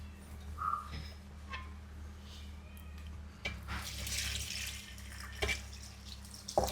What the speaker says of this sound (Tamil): சரி தண்ணி ஊற்றுமா.